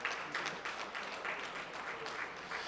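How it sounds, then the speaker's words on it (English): An audience at a minority health summit gives itself a round of applause, a continuous, fairly quiet patter of many hands with slight surges, no talk over it. "Give yourselves a round of applause."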